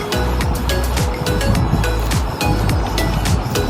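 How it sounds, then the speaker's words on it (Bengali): Water poured into sizzling masala in a pan for a magur catfish curry, a loud steady hiss and crackle of frying spreading across the whole moment with no voices. "আমি দিয়ে দেব একটু জল, পরিমাণ মতো জল দেব।"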